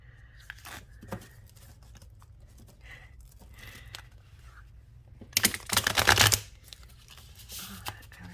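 A deck of tarot cards with holographic iridescent edges is shuffled by hand, with soft scattered card taps followed by one loud, close riffling burst about a second long, then quiet handling.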